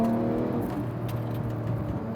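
A Porsche GT3 engine revs and pulls hard under acceleration through paddle-shifted gears, a loud steady mechanical drone with whirring tones and no talking over it.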